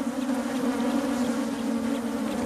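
Attacking Africanized honey bees make a dense, loud, continuous swarm buzz, an unbroken droning hum with no pauses or voices.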